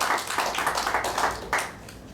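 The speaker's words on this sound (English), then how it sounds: "Please give a big round of applause for Subham Khitan." A small seated audience at a GST workshop gives a short round of applause, with dense, close hand claps fading slightly after about two seconds.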